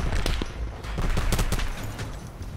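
Rapid automatic gunfire from the shooter video game Call of Duty Black Ops 4, loud, dense bursts of shots close up, continuous over a noisy battlefield background with no talk.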